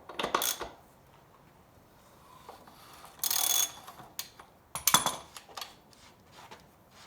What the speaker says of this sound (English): Now I'm going to take my socket wrench and remove the axle nut.